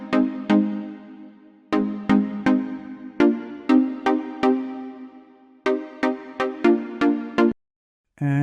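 Synth minor chords rooted on C for a house and R&B track, struck in short plucky stabs with a syncopated rhythm, bright and clean with quick decays and no voices.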